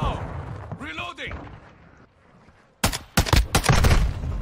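Bursts of rapid gunfire from a TAQ-M rifle in Call of Duty MW2 multiplayer crackle loudly in the second half, following a quieter stretch with a voice and some game sounds.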